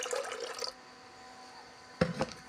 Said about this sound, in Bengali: পরিমাণ মতন জল দিলাম